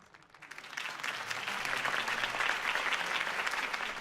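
A crowd applauds after a campaign speech by Harvey Dent in the Batman Telltale video game, the clapping swelling from a quiet start into a steady, dense roar that holds to the end.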